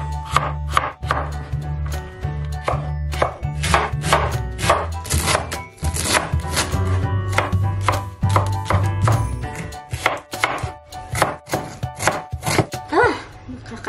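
A knife chops chili and onion on a board in quick, steady, close taps that run the whole way through, with a low hum underneath and no talking.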